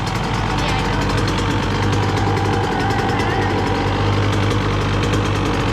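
A 2016 Suzuki RM 85 dirt bike engine idles steadily up close, a loud, even, buzzing rumble that holds throughout with no change in pace.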